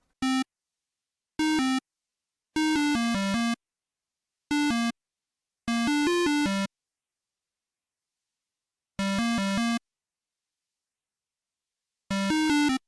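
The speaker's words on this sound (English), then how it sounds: "Here I have a synth pattern that I'm gonna put reverb in." A melancholic, moody synth pattern programmed in FL Studio plays as a handful of separate sustained chords and notes with silent gaps between them, clean and dry, no voices.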